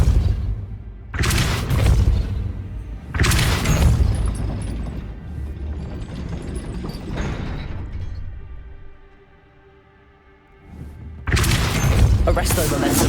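A Depulso spell cast in the video game Hogwarts Legacy, heard as several loud, booming whooshes and impact bursts in quick succession, with a quieter mechanical stretch between them.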